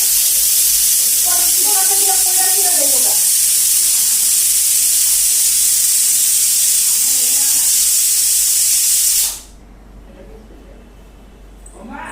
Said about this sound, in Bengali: গরম গরম লুচি ভাজা নিতেছি